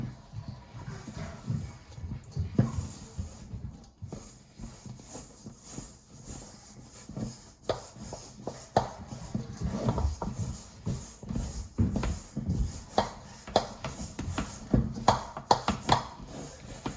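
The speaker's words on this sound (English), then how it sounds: "mix it up until it's a nice shaggy dough" Flour and water are stirred into a shaggy sourdough dough in a bowl, with quiet, irregular scraping and soft thuds that come and go close by and no voices.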